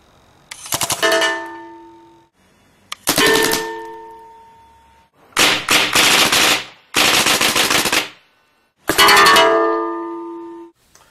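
A paintball gun mounted on a small robotic ground vehicle fires in loud, rapid bursts of pops, five separate volleys with metallic ringing at their ends and short silent gaps between them.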